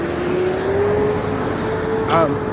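A car passes by close, its engine and tyre noise rising briefly near the end above a steady background of road noise.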